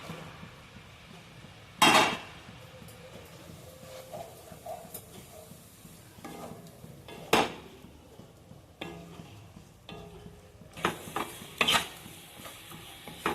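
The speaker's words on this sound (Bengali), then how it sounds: "এইভাবে নেড়ে নেড়ে নারকেল ছাইটা কিন্তু আমি পুরোপুরি শুকনো করে নেব।" Grated coconut stirred with jaggery in a pan, with soft scraping and occasional sharp clatters of the spoon against the pan, fairly quiet and without speech.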